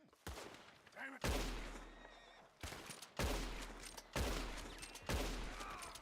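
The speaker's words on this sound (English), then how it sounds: "After a little bit of suppressing fire..." Bursts of gunfire in the video game Red Dead Redemption 2 land in several loud, sharp volleys over about six seconds, each with a ringing tail, and a horse whinnies once early on.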